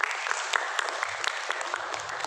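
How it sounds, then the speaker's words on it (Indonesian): An audience claps steadily throughout, a dense patter of many hands at moderate distance, rising out of a seminar-style setting with no talk over it. "Boleh kasih tepuk tangan?"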